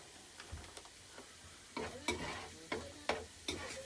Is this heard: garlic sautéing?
yes